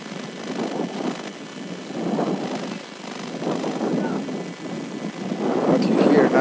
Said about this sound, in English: What you hear now is the wind.